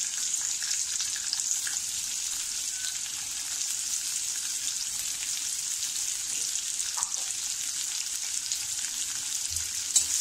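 Onion sautés in oil for Marathi fodnicha bhat (fried rice), giving an even, continuous sizzling hiss throughout, steady and fairly close, with only faint stirring touches and no voices.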